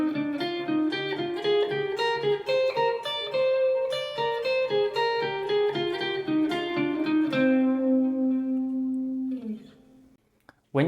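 Guitar playing minor scale thirds anchor to anchor, a quick run of picked interval pairs followed by a held note ringing out and decaying to near silence.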